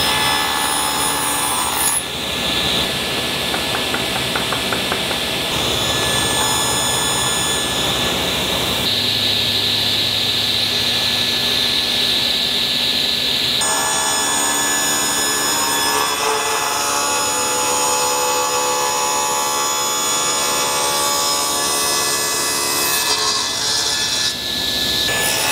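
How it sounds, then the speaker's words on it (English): A saw blade cuts through an ovangkol and maple rosette piece for an acoustic guitar build, making a long, loud, continuous whine and rasp that shifts in pitch as the cut progresses, with no voices. "I'm gonna try and hit the blade right here between the ovangkol and the maple"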